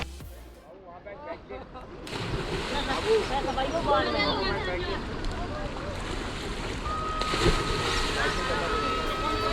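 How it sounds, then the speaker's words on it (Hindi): The Betwa river flows past a ghat at Orchha in a steady, broad rushing wash mixed with wind buffeting the microphone, continuous and fairly loud throughout. "बहते पानी की आवाज आपको एक अलग ही शांति का अनुभव देती है।"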